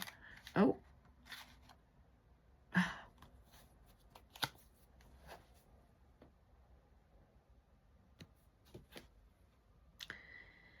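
Tarot cards being shuffled in short crisp riffles and soft slides, a few sharper bursts spaced irregularly against near silence, close and fairly quiet.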